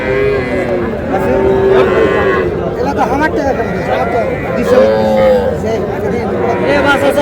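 Young bull calves mooing at a busy village cattle market (Raniganj haat), several drawn-out calls rising over constant crowd chatter and bargaining voices nearby.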